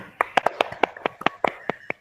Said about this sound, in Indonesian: Oke, tepuk tangan buat kelompok 3 ya.